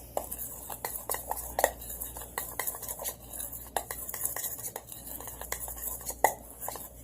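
Cooked pasta and a packet of tuna are stirred together in a pot, with a utensil scraping and clinking against the pot in irregular, close strokes and no talk.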